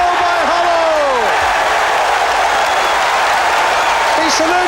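Tottenham football crowd applauding after a goal, a dense, loud, continuous wash of stadium clapping and crowd noise filling the whole stretch, with a commentator's voice over it.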